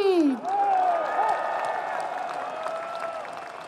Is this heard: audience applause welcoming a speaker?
yes